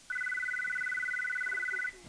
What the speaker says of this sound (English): Oh, sorry about my phone there.